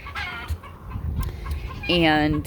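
Backyard chickens give short clucks, and one bird lets out a louder, drawn-out call near the end, close by over a low background murmur.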